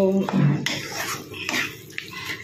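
Tap water runs and splashes in a home kitchen while hands are washed during cooking, a brief watery rush with drips heard under a woman's speech.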